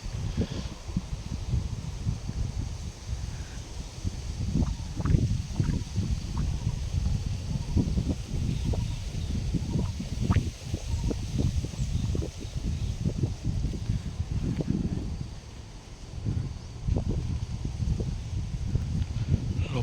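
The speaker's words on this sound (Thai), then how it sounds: "ยิ่งสายเริ่มแรงขึ้นนะครับ ลมเริ่มแรงขึ้น" Cold wind steadily rustling leaves outdoors on a hillside farm, a continuous dense rustle with gusty swells and crackling bursts, close and fairly loud throughout.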